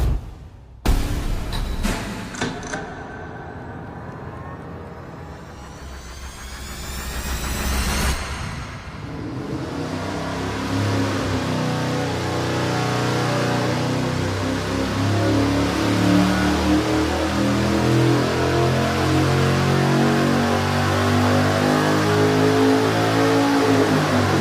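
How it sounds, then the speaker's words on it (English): A V8 engine on a dyno without nitrous: a few sharp cranks and pops, then a rising roar that settles into a loud, sustained run, close and alone with no voices. "We're gonna fire it up now and run the thing without the nitrous and just get ourselves a baseline"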